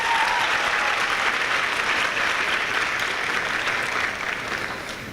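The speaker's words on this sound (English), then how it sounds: "let's have a huge round of applause for the entire Science and Medicine faculty" A crowd gives the Science and Medicine faculty a big round of applause at a medical school white coat ceremony. The clapping is dense and steady for the whole stretch and eases slightly near the end.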